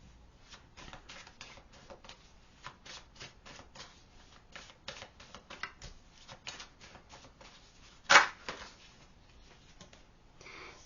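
Tarot cards are shuffled close up, giving a rapid, uneven run of crisp riffles and flicks. One sharper, louder snap stands out near the end. No one talks.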